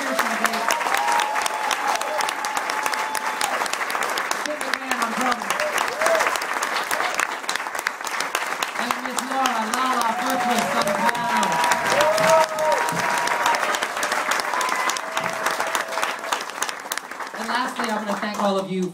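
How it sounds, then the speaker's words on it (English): Long, steady applause from a live concert audience in a small theater, with dense clapping mixed with cheers and scattered shouts, loud and continuous from start to finish. "One more round of applause for Mr. Michael Pearson."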